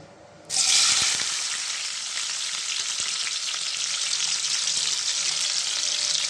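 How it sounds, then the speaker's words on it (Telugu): Onions dropped into four or five spoons of hot oil in a pan, with a sudden loud burst of sizzling after a brief quiet start, then a steady close frying hiss that continues to the end. "బాండి పెట్టి నాలుగైదు స్పూన్ నూనె వేసానండి ఒక రెండు ఉల్లిపాయలు రెండు టమాటాలు రెండు పచ్చిమిరకాయలు కొంచెం కరేపాకు ఉల్లిపాయలు వేసుకుందామండి"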